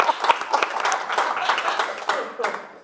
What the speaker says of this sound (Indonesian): Teman-teman boleh minta tepuk tangannya.